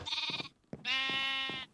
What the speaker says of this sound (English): I can't believe I found a pink sheep.